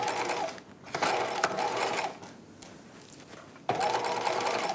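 A sewing machine runs in bursts while stitching a curved boning channel on a 1950s-style halter dress lining, its rapid whirring stitches stopping and restarting as the fabric is guided around the curve.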